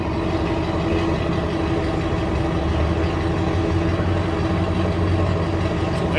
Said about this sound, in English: The sound of the exhaust.